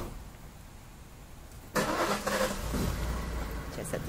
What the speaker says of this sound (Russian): Сейчас отъезжает машина.